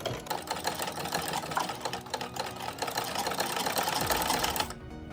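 Sewing machine running a second line of stitching on a child's summer jhabla, a fast, rattling mechanical whir heard close and steady before it cuts out abruptly near the end.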